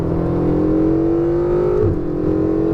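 A Ferrari 488 GTB accelerates on a race track, heard from onboard as a loud, steady engine wail climbing in pitch, then dropping sharply at a gearshift before pulling again.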